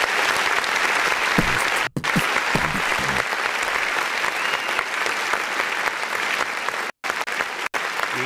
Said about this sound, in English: can we get a clap real quick?